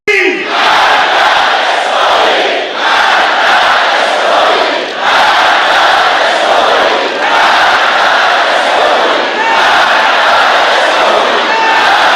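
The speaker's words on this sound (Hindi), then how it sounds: "ईरानी भीड़ ने, ईरानी समुदाय ने, पूरे ईरान ने डेथ टू अमेरिका और डेथ टू इजराइल के नारे भी लगाए" Large Iranian crowd chanting Death to America and Death to Israel slogans, a loud, dense mass of voices repeating rhythmic shouted phrases throughout.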